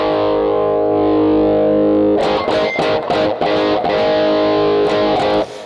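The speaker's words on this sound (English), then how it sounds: "so edge mode is the first of our two distortion circuits. This one is the lower gain of the two." Electric guitar run through the lower-gain edge distortion mode of an MXR Rockman X100, a sustained raspy chord ringing out before a series of loud, rhythmic distorted strums, played alone.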